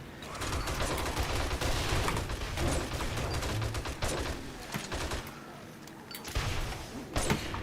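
Rocket launcher fire in the video game 7 Days to Die, a run of loud booming blasts and explosive bursts with mechanical clatter, with voices faintly underneath.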